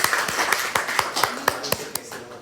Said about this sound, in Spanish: aplauso para la doctora.